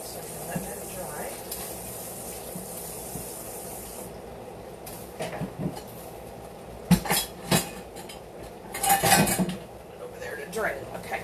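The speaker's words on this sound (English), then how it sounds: "let's take this little thing here and stir my meat, my onion in the pot here" Ground meat and onion sizzle in a pot while a utensil stirs and scrapes against the metal, with a faint hiss beneath and several louder clattering bursts toward the end.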